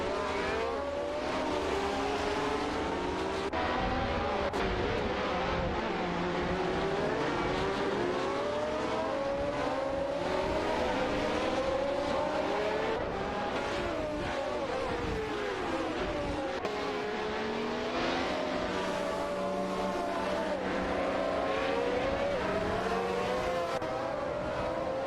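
Race cars in a racing video game, engines revving and shifting pitch continuously as they accelerate and overtake one another, a dense overlapping drone of several motors running for the full length without any voices.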